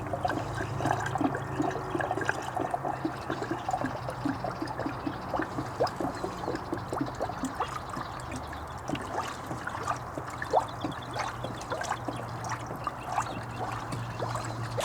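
Coolant glugs and trickles from a jug into the radiator of a Lexus GX460 during a radiator flush, a steady close pouring and gurgling that runs on without pause and without talk.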